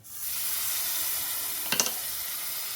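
Melted syrup poured into hot semolina halva with sesame, giving a steady close sizzle and hiss with a brief burst of crackling bubbles partway through.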